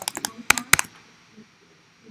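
Quick clicks of typing on a computer keyboard, a short burst of several sharp keystrokes close to the microphone, then only faint stray taps against a quiet room.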